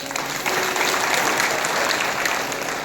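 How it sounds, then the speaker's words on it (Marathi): A crowd clapping steadily at a Shiv Mahapuran religious discourse, a dense, continuous burst of applause that holds at full strength throughout. "तुम्हीच तुमच्यासाठी जोरदार टाळ्या वाजवा"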